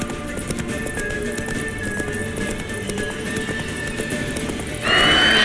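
Roach, a horse in The Witcher 3, gallops with a steady clip-clop of hooves and a whinny, set against ambient game sound that swells louder near the end.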